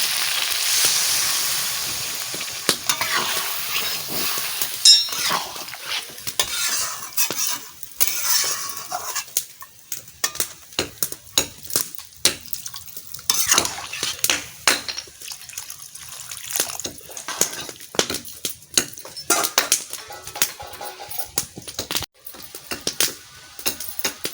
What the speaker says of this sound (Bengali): কত সুন্দর করে লাল লাল করে কষাই নিচ্ছি এবারে জল দিয়ে দেবো